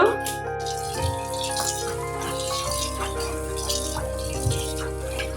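Jute leaves are washed in a basin with running water, giving continuous splashing, trickling and small clinks, with a faint steady musical tone underneath.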